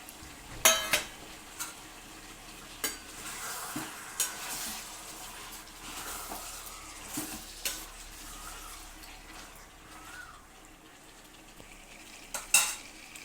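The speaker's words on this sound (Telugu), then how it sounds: "ఇప్పుడు ఈ సగం వేగాక ఇందులో ఈ ఉల్లిపాయ ముక్కలు, ఈ క్యాప్సికమ్ ముక్కలు వేసేసుకోవాలి" Half-cooked chicken fries in a pan with onion and capsicum pieces, a quiet sizzle under scattered clinks and scrapes of a utensil stirring, with a few louder knocks near the start and end.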